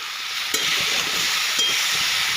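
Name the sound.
vegetables frying and stirred in pan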